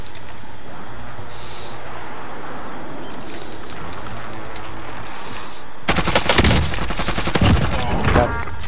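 Bursts of rapid SMG fire from a video game shootout, loud and close in the last few seconds after a quieter stretch of game ambience.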